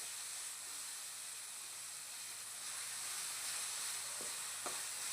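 Tomatoes and mint sauté in a pan with a steady, loud sizzle and hiss, a few faint scrapes of stirring near the end.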